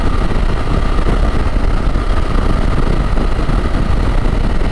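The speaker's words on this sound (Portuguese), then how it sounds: "Tem uma hora já rodando com a moto." A BMW F900 GS motorcycle engine while riding, a loud, steady, close-up drone with constant rumble and no pauses.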